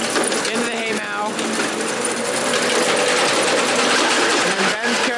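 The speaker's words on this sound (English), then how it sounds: "Alright, so the bales are coming up the elevator," A hay bale elevator on a farm clatters steadily as it carries bales up into the hay mow, a loud continuous mechanical rattle with rhythmic knocking throughout, alongside a high whine.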